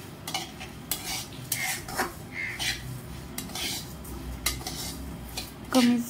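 Coarse wheat being dry-roasted over medium heat in a pan for jaggery porridge, with repeated scraping and clinking of a metal spatula against the pan in an irregular stirring rhythm, a faint sizzle underneath.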